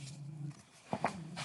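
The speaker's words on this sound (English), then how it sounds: "My dogs are rustling in the background." Dogs shift and rustle about somewhere in a quiet room, giving soft scuffling movement and a couple of brief, slightly louder bumps over a low steady hum.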